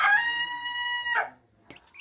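A chicken gives one loud, drawn-out squawking call up close, then falls quiet apart from a faint click.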